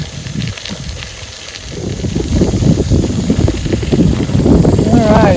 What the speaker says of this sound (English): Alright, it's getting windy.